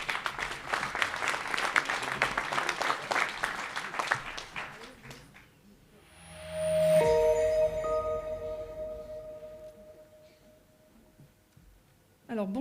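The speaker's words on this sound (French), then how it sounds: "Je vous remercie de l'applaudir." An audience at a town mayor's 2023 New Year greetings in Valgelon-La Rochette applauds a deputy mayor, a dense clapping wash that fades after about five seconds and gives way to a quieter sustained tone.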